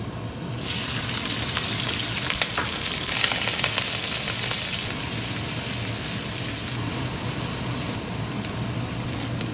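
Pork sizzles and crackles vigorously in hot olive oil for lumpia filling, a steady close frying hiss with occasional sharp pops and stirring, no one talking.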